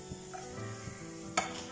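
Raw papaya being lightly fried in a pan for a sweet burfi, a faint, quiet sizzle with soft stirring scrapes and one sharp clatter of a utensil near the end.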